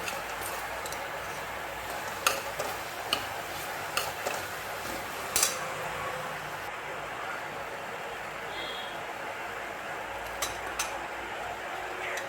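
Mutton and masala sauté in oil in a cooking pot, with a low steady sizzle under scattered sharp clicks and taps of a spoon against the metal.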